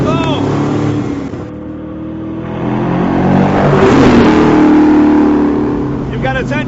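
Deronda sports car engine accelerating with a rising rev that swells to a loud peak midway and then eases off, with someone talking over it.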